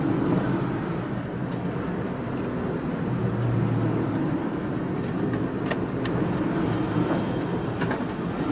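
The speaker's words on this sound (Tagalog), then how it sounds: "Medyo traffic nga lang, mga kaboypi." Road traffic moves through Bacoor City: a steady, loud rumble of engines and passing vehicles, with occasional higher hisses and clatters, and no talking.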